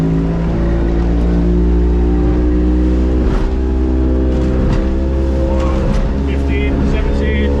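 A Warrior motorboat runs at speed on the water during a speed test, its engine a loud, steady drone with harmonic whine, close by, while someone talks over it.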